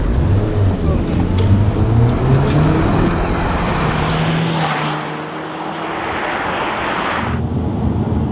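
A loud Audi TT quattro engine revs and accelerates hard, its pitch climbing through gears, close and continuous, with a brief dip before it roars again.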